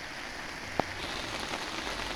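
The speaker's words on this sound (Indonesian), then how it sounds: "Hari lagi hujan bosku," Rain falls steadily outdoors during a fishing trip, a soft continuous patter with one brief sharp tap partway through, and no one speaks.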